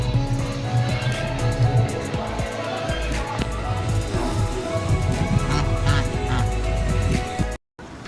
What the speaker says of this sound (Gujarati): અહીંયા છે એક નાનકડું બતક.